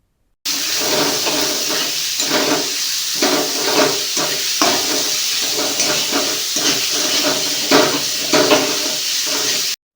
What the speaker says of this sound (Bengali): কাঁচা গন্ধ চলে গেলে তারপরে কুচিয়ে রাখা পেঁয়াজটা দিয়ে দিতে হবে